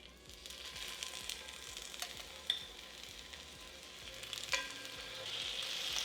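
Gluten-free vegan French toast made from homemade crusty bread frying in olive oil in a pan, giving a steady close sizzle with small crackles and soft scraping clicks throughout.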